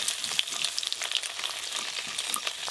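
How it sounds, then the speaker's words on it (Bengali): Fish sizzles and crackles in hot oil with a continuous bright spitting sound and scattered pops, close and fairly quiet, with no talking. "এই যে এই মাছগুলো ভেজে নেব"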